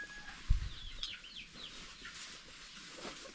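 A hen clucks softly at a distance, giving a few short, quiet calls over faint background noise.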